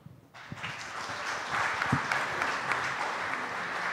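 An audience at a congressional candidates' event breaks into steady applause, many hands clapping together at a moderate distance, sustained without pause.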